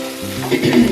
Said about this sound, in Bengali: এটা একটু ভাজা ভাজা করে